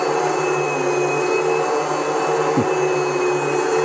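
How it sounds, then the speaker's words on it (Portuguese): A vacuum cleaner runs steadily with a loud, constant motor drone and a high whine, a brief pitch dip near the end. "Deixa eu passar para o aspirador agora."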